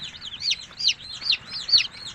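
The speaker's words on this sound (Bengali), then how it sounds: "এখানে দেশি মুরগির বাচ্চাও আছে এবং টাইগার মুরগির বাচ্চাও আছে।" Native and tiger breed chicks peep together in repeated high, rising chirps about every half second, steady and fairly close with no other sound.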